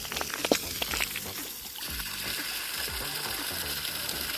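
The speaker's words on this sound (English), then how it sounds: "Water is coming at not at a heavy pressure, but it's coming." Water from a hose pouring at low pressure onto dry soil in a cornfield in St. Ann, Jamaica during the dry season, a soft continuous trickling and splashing, fairly quiet and steady.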